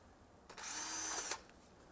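A drill bit bores into metal at a forging workshop, producing one short, faint, high-pitched whirring burst of just under a second that rises and then cuts off.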